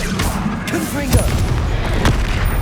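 Confringo fire blast spell in the Hogwarts Legacy video game: two booming bursts in a busy, noisy fight mix with voices calling out over it.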